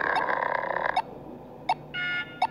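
An alarm goes off in a stick man survival video game as a few short, bright electronic tones and bursts, with a sustained buzzing tone at the start, loud and close with no talking.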